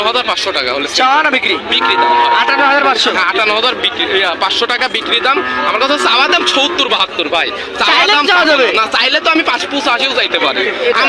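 Young Holstein Friesian bulls mooing loudly and repeatedly at the Aronkhola cattle market in Pabna, long bellowing calls overlapping with a crowd of people talking and chattering in the background.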